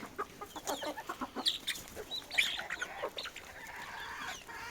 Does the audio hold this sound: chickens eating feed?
yes